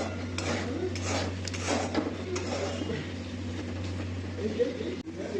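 Semolina being stirred in a metal pan, continuous scraping and clinking of a spoon against the pan under a steady low hum, with a voice talking over it.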